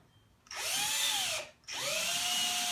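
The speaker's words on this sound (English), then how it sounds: "when you put the screws, don't screw too tight, too hard, just so it's even with the plywood" A power drill drives screws into plywood while a doghouse is built. Two loud, close whirring bursts rise in pitch and then slow as each screw seats, with a brief gap between them and no talking.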